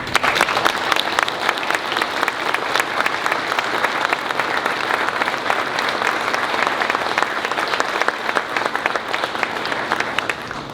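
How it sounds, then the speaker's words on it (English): A crowd gives a steady, loud round of applause to honor military veterans at a public gathering, with sustained dense clapping throughout that fades slightly at the end. "How about a round of applause?"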